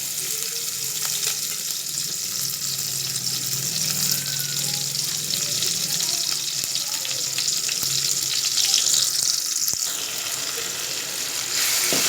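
Onion frying in oil for a village-style chicken curry gives a continuous broadband hiss close by, steady and fairly loud, with faint clatter and no talk.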